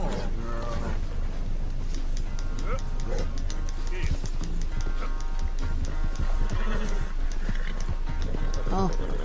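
Horse hooves clopping and a horse snorting in the open-world western game Red Dead Redemption 2, set under game music and ambience, with someone talking over it.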